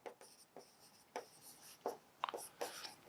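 Chalk or marker strokes on a board as a sum of divisors is written out, a series of short, sharp scratches and taps at irregular intervals, close and fairly faint.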